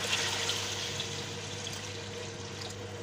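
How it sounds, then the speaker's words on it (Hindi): Water is poured steadily into browned gosht (meat) cooking in a pot for a carrot and fenugreek dish, a continuous close rushing splash throughout with no talk. "इसमें तकरीबन 6 गिलास पानी ऐड करेंगे।"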